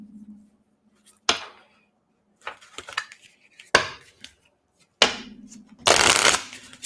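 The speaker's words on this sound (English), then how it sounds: "Ooh, that sounded like a good shuffle." A deck of cards is shuffled close by in several separate riffles and snaps, each a short crisp burst, ending with a longer, louder flurry.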